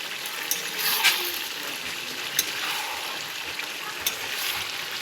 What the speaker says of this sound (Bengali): এই দেখো মাংস কষানো চলছে